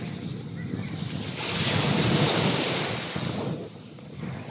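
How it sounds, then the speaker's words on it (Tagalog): Sea waves washing onto a beach, a steady roar of surf that swells loudly in the middle and eases off again, with wind gusting across the microphone. "Ito yung dagat. Ayan, na dagat, oh."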